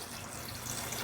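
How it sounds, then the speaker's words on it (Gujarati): A glass of water poured onto soaked chickpeas in a pressure cooker, a soft, brief, continuous splashing trickle heard close up. "હવે ચણા સાથે આપણે 1 ગ્લાસ પાણી ઉમેરી દઈશું।"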